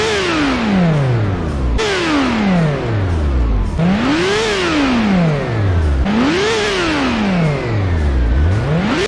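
A car's engine in the Gran Turismo racing video game revs up and drops back four times in close succession, each climb ending in a gear change, with a turbocharger whine riding over the loud, continuous engine note.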